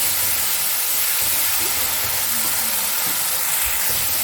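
Mustard paste and green chillies frying in a hot pan for a rohu fish curry give a loud, steady hiss that runs unbroken throughout with no voices.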